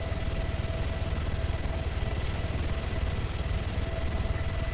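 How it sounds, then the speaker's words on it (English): A helicopter in the video game Arma 3 gives off a steady, loud rotor thrum and engine whine, close and unbroken throughout, with no voices. "That was a big helicopter."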